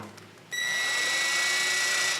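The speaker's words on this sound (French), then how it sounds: "on passe la perceuse en mode percussion" A power drill in hammer mode spins up abruptly into a wall for a picture or mirror hanging job, then holds a loud, steady, high-pitched whine close by.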